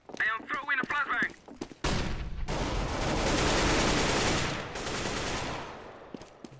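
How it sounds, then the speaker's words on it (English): A voice talks briefly, then a flashbang grenade in Counter-Strike: Global Offensive goes off with a loud, sustained broadband blast that roars for about three seconds before fading into quieter game noise. "I am throwing a flashbang."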